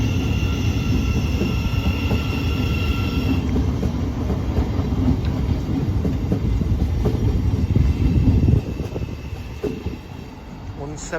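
A Class 700 train at a station platform rumbling loudly and steadily with wheel squeal and rail clatter, close by, before easing off near the end, with faint talk underneath.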